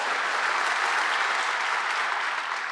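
Steady, loud applause from a church congregation, a continuous wash of clapping with no pauses across the whole short span.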